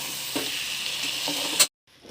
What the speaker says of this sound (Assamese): গেছৰ ফ্লেমটো হাই কৰি দিছোঁ অলপ সময় এইখিনি অলপমান ভাজি ল'ম আৰু চাউলটো